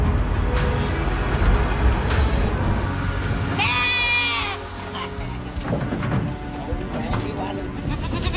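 Sheep at a Vietnamese goat and sheep breeding farm give a loud, wavering bleat at close range, surrounded by animal shuffling and people talking nearby.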